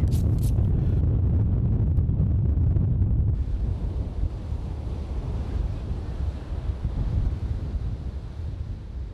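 Stormy wind and Black Sea waves breaking on the shore, a loud continuous roar with heavy wind buffeting the microphone at first, then a steadier surf rumble.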